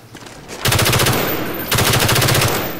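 Automatic gunfire in Call of Duty Black Ops multiplayer, two loud close bursts of rapid rattling shots, the second following about a second after the first, with no talk.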